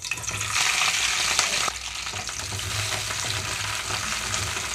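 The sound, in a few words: green chillies frying in oil in a pan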